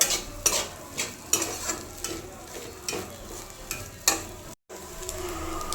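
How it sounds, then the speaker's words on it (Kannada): Puffed rice egg bhurji is stir-fried in a pan over a continuous sizzle, with repeated spatula scrapes and knocks every second or so and a brief dropout near the end, no voices. "ಒನ್ ಮಿನಿಟ್ ಅಷ್ಟೇ ಸಾಕು ಈ ಥರ ಚೆನ್ನಾಗಿ ಫ್ರೈ ಮಾಡಿಕೊಂಡ್ರೆ ಸಾಕು"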